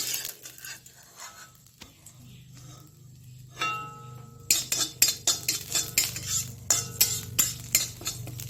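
A bay leaf goes into a little leftover hot oil in a pan while cooking a thin egg curry, followed by a run of sharp metal spoon scrapes and clinks against the pan over a faint sizzle.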